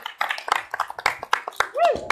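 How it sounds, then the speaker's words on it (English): Audience at a 2018 Texas congressional Democratic runoff debate clapping for the two candidates in scattered, uneven claps, with people talking and a brief whoop near the end. "One last round for our two wonderful candidates."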